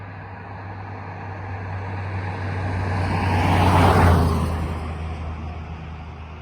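A car on a rural Pennsylvania roadside, approaching from a distance, swelling to a loud rushing pass over a low steady hum, then fading away.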